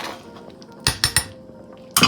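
Pork chops and onions being stirred in a pan, a few sharp metallic clinks and scrapes of a utensil against the pan in quick clusters, close and fairly loud, with quiet gaps between them.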